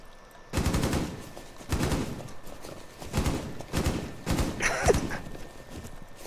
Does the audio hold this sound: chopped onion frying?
no